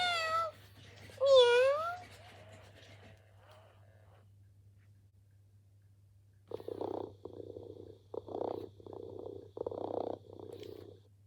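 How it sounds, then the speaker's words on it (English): A Joy for All robotic toy tabby cat gives a few drawn-out electronic meows, then a series of short, buzzy purring bursts over a faint steady hum. "So the Joy for All makes a wider range of meow sounds."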